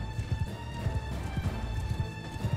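Cavalry horses galloping in the Mount and Blade Bannerlord game, a steady dense clatter of hoofbeats under a constant hum, moderately near with no voice.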